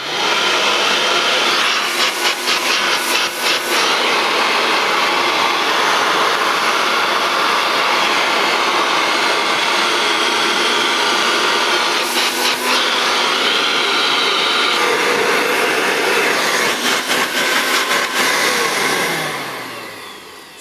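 A vintage 1977 Hoover Dustette 2614C hand-held vacuum cleaner runs with a steady, loud, close motor whine and airflow roar throughout, winding down at the very end.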